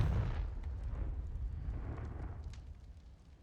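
A deep, rumbling explosion from the Confringo fire spell in Hogwarts Legacy, a heavy low boom at the start that rolls and fades over a few seconds, moderately faint.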